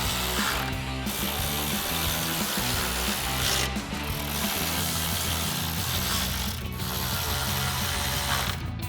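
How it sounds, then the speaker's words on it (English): A ratchet tightens the top grille bolts on a RAM 1500, giving a dense, continuous close clicking that runs without a break, with slight dips in level roughly every three seconds as the stroke reverses. "we can get our 4 bolts back in the top of the grill"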